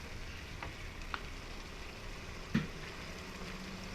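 Asam pedas Johor frying in a pan, a soft, steady sizzle with a couple of faint clinks from stirring, close and quiet, no talk.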